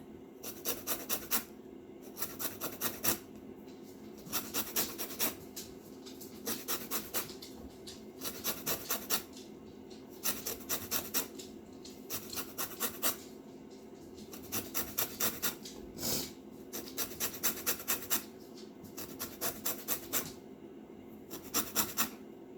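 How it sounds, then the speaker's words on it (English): Knife or peeler scraping around a whole lemon, a dry rasping rub repeated in short bursts with brief pauses as the fruit keeps turning, close and fairly quiet, for fire cider tonic. "You want to peel off the whole lemon. So just keep turning it."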